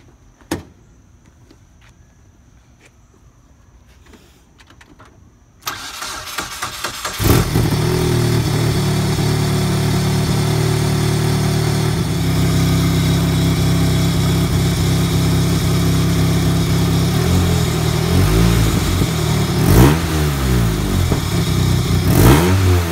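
A car engine cranks and catches after distributor work, then runs steadily with loud revving from nearby, following a few quiet clicks and knocks beforehand.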